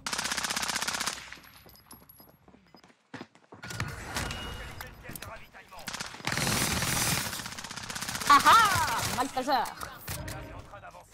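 Video game gunfire crackles in bursts of rapid automatic shots, separated by quieter gaps, while players talk excitedly over the action.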